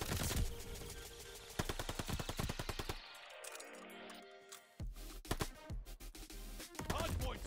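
Rapid bursts of automatic gunfire around a hardpoint in Call of Duty: Vanguard, loud and close, with dense rattling volleys, a short lull, then more firing alongside sharp impacts.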